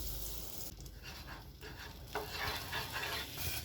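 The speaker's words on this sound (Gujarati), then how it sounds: "હવે એમાં સૌપ્રથમ આપણે બટર નાખીશું." Butter sizzles as it melts in a hot pan while making a double decker paratha, a soft, fairly faint crackling hiss with a few light stirring touches.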